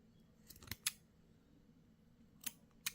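Scissors trim the edge of a small paper gift bag, giving a few quiet, crisp snips in two short bursts with near silence between them.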